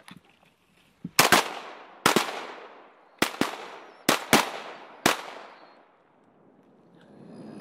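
Shotgun blasts at ducks on a duck hunt ring out in a loud, close volley: a quick double shot, then single and paired reports about a second apart, each trailing off into a long echoing decay over a quiet marsh.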